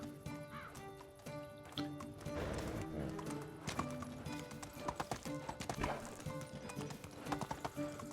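Horse hooves clip-clop steadily in the medieval game Medieval Dynasty, a rhythmic trotting gait over background music, with a brief whinny and a voice speaking over it.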